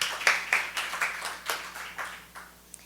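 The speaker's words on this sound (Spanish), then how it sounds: "Recibamos por favor a nuestra invitada desde Bucaramanga con un aplauso muy fuerte" A modest audience at a university literary lecture claps to welcome a guest poet from Bucaramanga; rhythmic, fairly close hand claps come in a loose beat and fade out over about three seconds.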